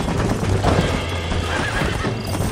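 A horse in the Red Dead Redemption video game neighs loudly and close, with hoof clip-clops and busy game ambience underneath for the whole short stretch.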